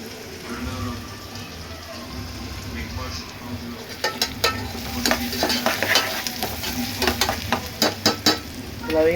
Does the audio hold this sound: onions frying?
yes